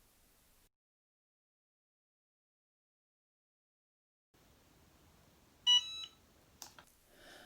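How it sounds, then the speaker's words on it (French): A Cricut EasyPress heat press timer sounds a short, clear electronic beep after a long near-silence, followed by a few faint rustles and handling noises as the press is lifted. "Lorsque le bip sonore retentit, je retire ma presse"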